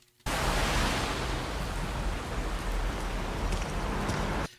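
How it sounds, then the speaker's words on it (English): Steady heavy rain hissing as dense, even noise from the Resident Evil Requiem trailer, starting abruptly and continuing unbroken for several seconds with no voices. "we see Grace just walking through the rain"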